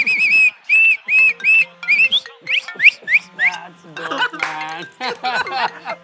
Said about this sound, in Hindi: मुझे सीटी बजानी भी आती है।